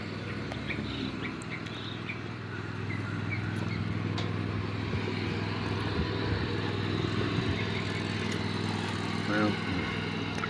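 A lawn mower engine drones steadily in the background throughout, with someone talking over it and a few faint bird calls.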